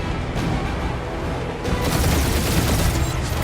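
Gunfire and booming blasts from a space dogfight in the Guardians of the Galaxy video game, a dense, continuous barrage of shots and explosions that grows louder partway through, with no talking.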